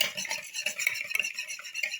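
A spoonful of vanilla stirred into blueberry muffin batter in a bowl: steady, close scraping and tapping strokes in a continuous rhythm, with no voices.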